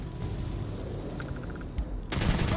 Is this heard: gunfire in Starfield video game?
yes